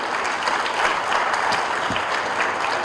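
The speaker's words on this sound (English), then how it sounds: "So a big applause for the youth sitting here." A room full of people at a ceremony in Islamabad applauding, a thick continuous wash of clapping held at an even level throughout, with no talking over it.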